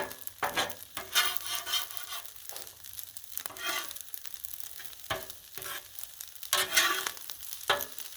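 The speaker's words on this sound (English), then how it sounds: "Let's stir up some trouble here. Stir up the eggs, I mean." Eggs fry on a flat griddle for chicken fried rice while a spatula stirs and scrapes them. Sharp bursts of sizzle and scraping recur irregularly over a lower crackle, close and moderately loud.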